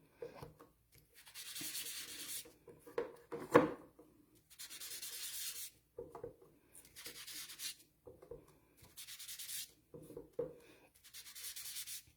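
Olive green ink rubbed onto paper to blend colours: five or six soft, scratchy rubbing strokes in a steady back-and-forth rhythm, close up and quiet, with brief pauses and small taps between them.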